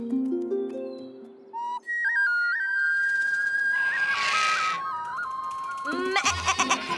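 Cartoon goats bleat in a lively chorus over music and whistling, the bleats thickening midway before the score swells again.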